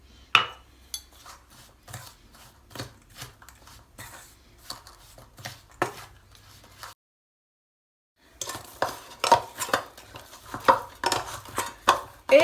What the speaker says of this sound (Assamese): এতিয়া অলপ অলপ গাখীৰ দি পেলাই ধুনীয়াকৈ এটা ডো বনাই ল'ম